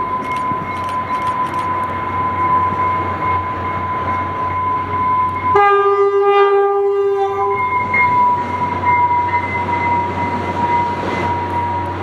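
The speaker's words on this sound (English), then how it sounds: "another southbound frontrunner would come into the station with 104 leading, which also gave a horn show" Southbound FrontRunner commuter train, led by locomotive 104, arriving at a Farmington, Utah station and sounding a loud multi-tone horn for about two seconds midway, over a steady rumble of the train.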